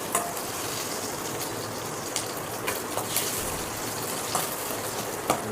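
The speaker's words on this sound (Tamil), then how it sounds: "இப்போ மிளகாயை போட்டு அதில் வறுக்க போகிறோம்." Dried chillies sizzle in hot oil in a pan for Madurai-style tomato chutney: a steady, close crackling hiss with scattered sharper pops, and no talking.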